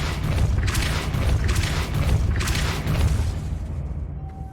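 A Depulso spell cast in the video game Hogwarts Legacy, a sustained booming magical blast with rumbling low end and bursts of rushing noise over several seconds, fading toward the end.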